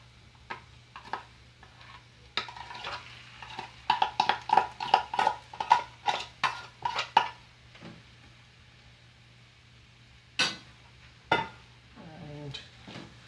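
Onion and mashed potato sauteing in a pan while being stirred for aloo paratha stuffing, a series of quick, light scraping and tapping strokes of a utensil against the pan, clustered in the middle, over a faint steady hum.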